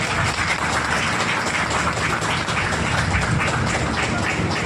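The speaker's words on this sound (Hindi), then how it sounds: "जोरदार एक बार ताली हो जाएं" Audience applause at a stage event: a dense, steady wash of many hands clapping that stays at an even, loud level throughout, with no voices rising above it.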